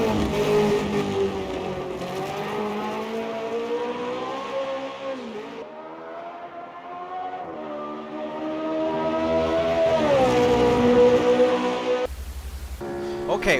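A historic Formula 1 car at Hockenheim in a racing game, its engine a steady, loud drone that rises and falls in pitch through shifts and corners, continuous from the cockpit.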